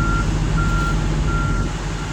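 While a truck backs into a parking spot, its backup alarm beeps three times at a steady pace, loud and close, over the constant rumble of a running engine.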